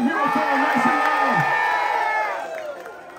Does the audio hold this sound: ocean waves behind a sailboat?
no